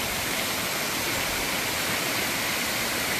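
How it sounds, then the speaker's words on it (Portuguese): The first of three waterfall drops at Serra das Andorinhas, São Geraldo do Araguaia, roars as a steady, dense rush of falling water, loud and unbroken throughout. "e aí você está vendo as cachoeiras. Aqui é a primeira queda, né?"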